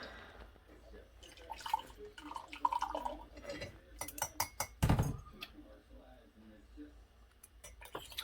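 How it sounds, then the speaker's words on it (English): Honey is stirred into ginger tea in a cup, giving a few soft liquid swirls followed by a cluster of sharp spoon clinks against glass, close and fairly quiet. "Stir it in there."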